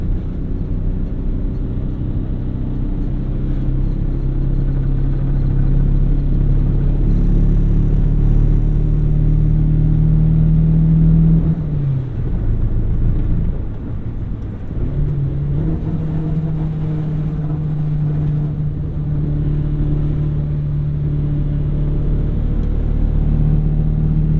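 A high-mileage 1999 Toyota Corolla with worn engine mounts is heard from inside while driving, its engine droning and rising under throttle, dipping briefly midway as it shifts before building again; no talk is heard.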